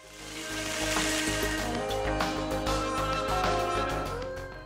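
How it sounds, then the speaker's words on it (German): Chicken pieces searing in a Dutch oven for Italian scarpariello crackle and sizzle steadily, a loud close hiss with pops and spits throughout, no voices over it. "Umdrehen und von der anderen Seite auch nochmal so 3, 4 Minuten brutzeln lassen."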